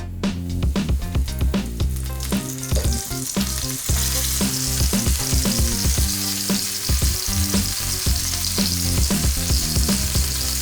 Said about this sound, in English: Now, the scallops go right into this hot oil.